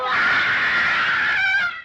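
A woman's shrill, sustained scream from the 1933 horror film The Invisible Man, loud and close, holding one high wavering pitch for nearly two seconds before cutting off.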